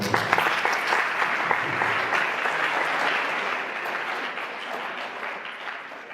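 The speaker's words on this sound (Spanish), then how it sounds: "Un aplauso, por favor" An audience applauds a speaker at a talk on horror cinema and video games, a dense, steady wash of many hands clapping that holds at a fairly even level and eases slightly toward the end.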